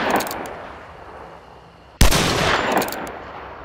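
Two loud gunshots from a firearm in Hunt: Showdown, each a sharp crack followed by a long echoing tail, the second shot louder and closer, with no voices.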